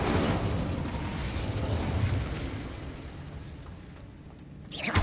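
Incendio fire spell cast in the Hogwarts Legacy video game: a loud, broad fiery burst that roars and slowly fades over several seconds, with a fresh sharp flare rising at the very end.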